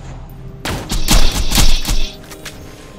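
Rapid gunfire bursts in Borderlands 2 while fighting Dexiduous the Invincible, a loud volley of overlapping shots that runs for about a second and a half with thudding impacts, then trails off.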